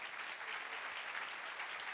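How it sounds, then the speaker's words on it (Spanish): A church congregation applauds during a sermon, producing a brief burst of steady, dense clapping from many hands at moderate distance. "Dele un aplauso al Señor"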